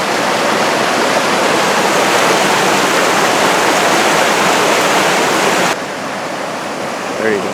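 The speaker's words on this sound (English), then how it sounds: "move down to the waterfalls" Loud, steady roar of rushing water from a waterfall on a Pennsylvania brook trout stream, a dense broadband wash that fills the scene and drops slightly near the end.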